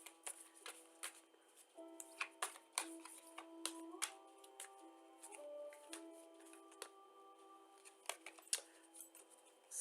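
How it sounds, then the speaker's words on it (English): Tarot cards being shuffled by hand, a quiet run of crisp flicks, taps and riffles in irregular bursts, close and soft, with no talking. "shuffling's a little sticky today"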